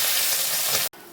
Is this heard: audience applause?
no